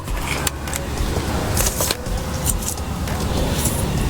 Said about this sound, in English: I heard a car though.